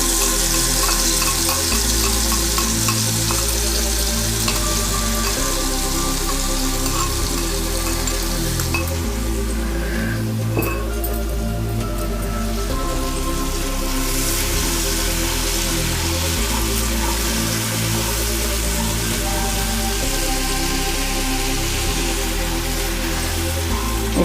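Chana gravy sizzles steadily in a pan, a loud continuous fry with occasional stirring and scraping, no voices.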